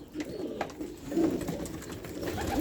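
Young racing pigeons cooing while being fed in a loft, low soft coos under a rustling, busy background of wings and movement, close by, with no talking.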